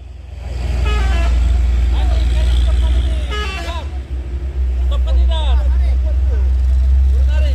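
A Hino truck pulling a white trailer rumbles past on a busy road, its heavy low engine drone steady and loud throughout, while people talk nearby and other traffic and horns sound in the background.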